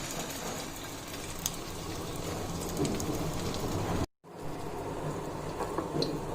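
Chicken kebabs on sticks fry in a pan with a dense, steady crackling sizzle like heavy rain, close and continuous, broken by a brief silent cut near the end before the sizzling resumes.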